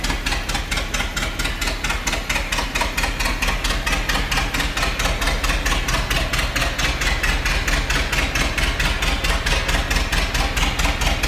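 A 1927 Ford Model T Coupe engine idling close by, a loud, steady, fast mechanical chuffing that holds an even rhythm throughout, with no voices.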